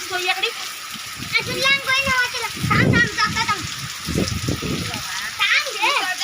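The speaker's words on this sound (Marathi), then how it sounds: "आता पावसाला सुरुवात सुद्धा झाली आणि आलेला आहे मोठा एकदम पाऊस" Heavy rain pours down steadily, with a hissing wash and splashing drops close by, while several people, including a child, talk over it throughout.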